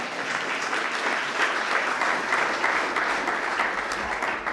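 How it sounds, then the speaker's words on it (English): Audience at a World AIDS Day event breaks into sustained, even applause, clapping filling the room steadily with no voices over it. "and I better get some applause."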